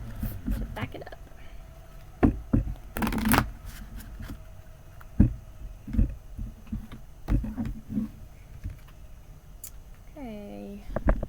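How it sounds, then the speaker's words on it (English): Oracle and tarot cards being shuffled by hand, a run of soft papery riffles and taps in irregular bursts, fairly close and quiet, with a brief squeaky sound near the end. "I'll go ahead and pull one of these oracle cards first, and then we're going to pull some tarot"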